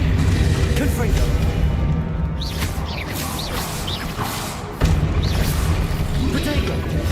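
The Confringo blasting spell in the Hogwarts Legacy game gives a loud, dense barrage of magical combat explosions with a sharp booming impact midway, amid continuous rumbling noise.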